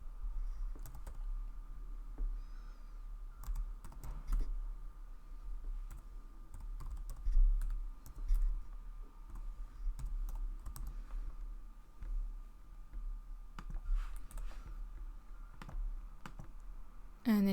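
Keys clack on a computer keyboard as a domain name is typed into a web registrar's search box, a close, steady run of irregular taps with brief pauses, over a low constant hum and no talking.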